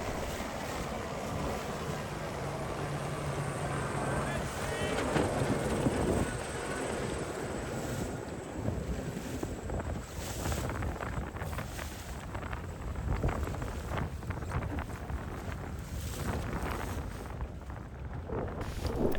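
A racing yacht under sail at the start of the Fastnet race, with steady broadband rush of wind and water against the hull filling the whole stretch, continuous and fairly loud, with no clear voices.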